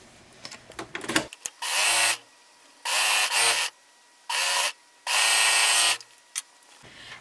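A sewing machine stitches a T-shirt side seam toward the sleeve, running in four steady bursts of whirring with short quiet pauses and small handling noises between.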